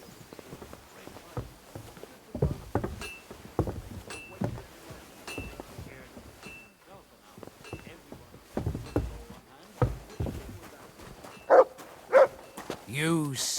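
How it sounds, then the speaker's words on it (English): A dog barks a few times in a medieval town in Kingdom Come Deliverance II, sharp yelps standing out near the end over footsteps, ambient bustle and a voice talking throughout. "You silly dog."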